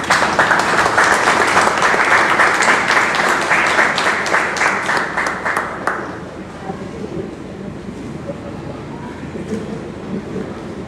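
Audience applause welcoming a speaker at a Panamanian education ministry event, loud dense clapping that gradually thins and fades into scattered claps and murmur.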